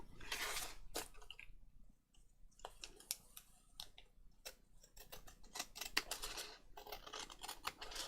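Scissors snipping around paper for a junk journal page, a series of close, quiet crisp cuts in irregular bursts with short pauses between them.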